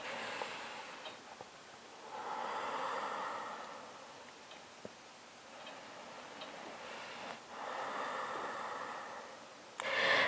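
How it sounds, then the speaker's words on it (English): Slow, deep breaths during a seated yoga stretch with the soles of the feet together: two or three long, soft airy inhales and exhales, close and quiet, alone with no talking. "take 2 or 3 deep breaths"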